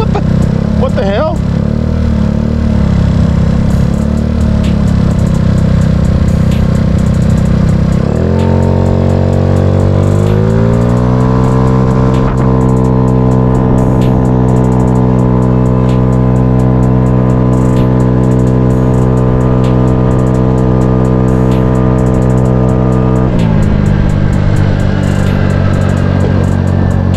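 A Tao Tao GY6 Chinese scooter pulls away from a traffic light, its close engine note climbing sharply as it accelerates, then holding a steady drone for several seconds before easing off, with wind rush throughout.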